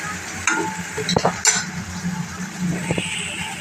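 Whole spices crackling in hot oil in a pan while cooking sev and onion curry, with a crisp steady sizzle and a few louder pops and clinks, close by.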